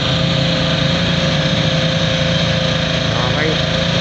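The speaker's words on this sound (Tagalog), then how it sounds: "pwede maingay kasi malapit tayo sa motor, no? Yung ginagamit nilang generator." Generator engine running nearby in a public plaza by Manila Bay, a steady loud mechanical drone with a constant hum that persists throughout without pause.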